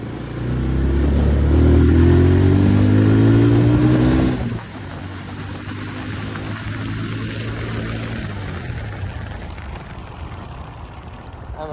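A car climbs and turns on a steep hill, its engine revving loudly with rising pitch for several seconds, then dropping to a steadier, quieter drone as it continues along the slope.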